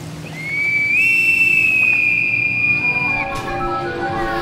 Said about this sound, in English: Then we hear a whistle like a bosun's pipe.